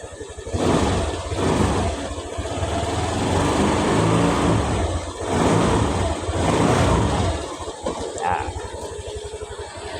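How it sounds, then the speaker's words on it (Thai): A Honda Click 125 motorcycle engine revs up and down in a few surges, loud and close, with a steady mechanical drone between the bursts. "ผมลองเร่งเครื่องนะครับ"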